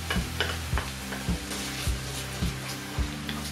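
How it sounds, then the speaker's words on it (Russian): Oil sizzles and crackles steadily as tomato paste fries with cabbage in a pan on high heat, with a few sharp taps of a utensil against the pan every half second or so. "Минутки две обжарим томатную пасту."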